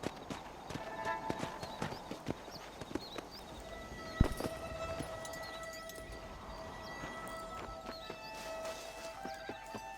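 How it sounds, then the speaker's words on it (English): Hooves of a horse clip-clop in Red Dead Redemption, a faint, steady walking rhythm of light taps with a louder thud midway, over quiet game ambience and tonal hums. "It's my horse."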